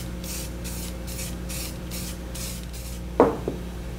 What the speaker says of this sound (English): I'm going to spray it with semi-gloss black